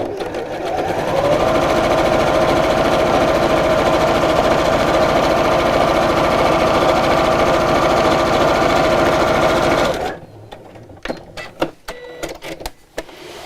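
Sewing machine running steadily for about ten seconds, stitching two pocket pieces of a zipped pouch together at regular stitch length, then stopping, followed by a few faint handling clicks.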